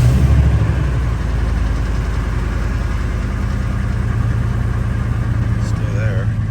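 A 1999 Ford F250 with a V10 engine runs at idle after oil pan work, still leaking at one plug, with a loud, close, steady rumble that continues unchanged throughout.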